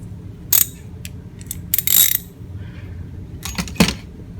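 A PROTO torque wrench ratchet mechanism with a ball detent, heard as a few close, crisp bursts of metallic clicking separated by quieter handling noise.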